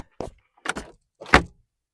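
A Toyota Sienna minivan camper's door and internal shelf are shut in three separate close thuds and clunks, each short and spaced about half a second apart, the last the loudest.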